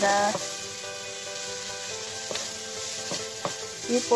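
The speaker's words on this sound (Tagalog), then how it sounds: "Lutuin na natin yung curry powder ng kaunti." Curry powder fries in a pan with a steady, close sizzle, broken by a few sharp clinks of a utensil stirring against the metal.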